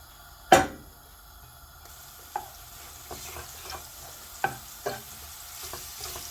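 Ingredients sauté lightly in a pan during chicken quesadilla prep, with a quiet, steady sizzle broken by a few close utensil clinks and stirring taps.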